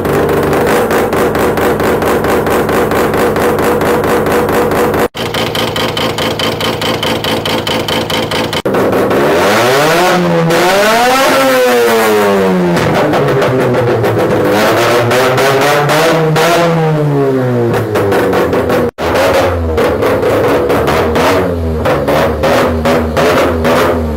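A four-port bridge-ported rotary engine revving hard and loud, with rapid rising and falling sweeps and a choppy, raspy idle between pulls, close and continuous with no talk.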